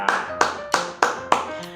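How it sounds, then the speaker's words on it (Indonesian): Five crisp, evenly spaced hand claps in unison, about three per second, from a group of a teacher and fifth-grade pupils during a thematic school lesson; loud, close and without talk. "beri tepuk tangan untuk kita semua"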